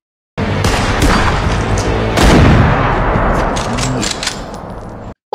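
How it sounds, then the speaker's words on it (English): Heavy gunfire from a TV drama bursts out loud and close, a rapid volley of overlapping shots and booms that swells midway, then cuts off abruptly. "They're wasting a lot of bullets. All right, they ain't got no target. They just shooting."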